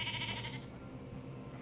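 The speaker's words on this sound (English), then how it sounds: "These 2-headed sheep, they are 2-headed sheep." Two-headed sheep bleat in the game Nuclear Drifter, a brief wavering cry at the very start that fades into steady ambient background.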